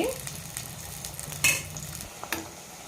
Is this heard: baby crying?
no